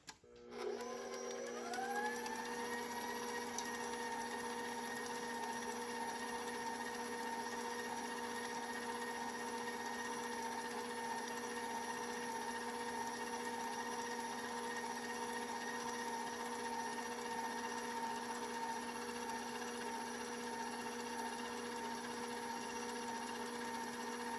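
An electric mixer whirs up to speed and then runs in a steady, close, high-pitched drone while mixing gingersnap cookie dough with butter.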